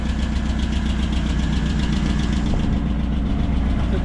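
A tractor engine runs steadily while pulling a load, a continuous close, loud rumbling drone with a slight rhythmic knock and no talking.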